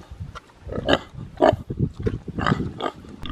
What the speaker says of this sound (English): They're just out there happy as ever, eating and munching and rooting and, of course, grunting.